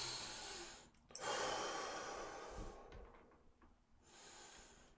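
A deep, slow breath in followed by a long airy exhale during a calming tapping exercise, close and breathy, with a short pause and a softer breath at the end.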